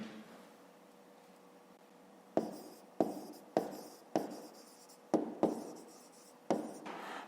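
Pen writing numbers by hand on paper during a fifth-grade maths exercise, heard as a series of short, close scratchy strokes in quick bursts over a quiet room.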